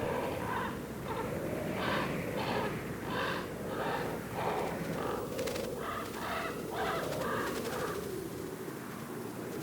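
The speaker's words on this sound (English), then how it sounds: "His presence causes the crows to scatter." Crows cawing near an animal carcass in the North American wild, repeated harsh calls in bursts over a steady, dense outdoor background noise, moderately close and continuous.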